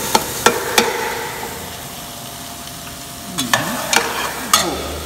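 A spoon stirs a cream sauce with andouille in a pot, producing a few sharp scraping clicks against the metal at the start, a quiet simmering stretch, then another quick run of stirring knocks near the end.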